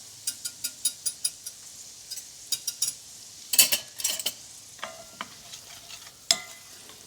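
Vegetables cooking in a pan as a Southern roux base, with scattered metallic clicks and scrapes of a utensil stirring against the pan over a faint sizzle; no voices.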